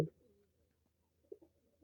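Pigeons in a lit coop on a foggy morning give faint, soft coos, with one brief call at the start and a couple more low coos about a second later in quiet surroundings.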